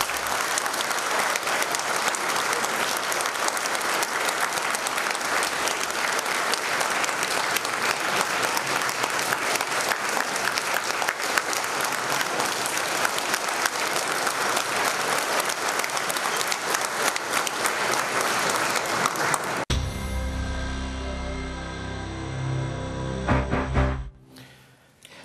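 A political rally crowd applauds loudly and continuously for about twenty seconds, a dense steady wash of clapping that cuts off abruptly, followed by a brief tail of quieter sound.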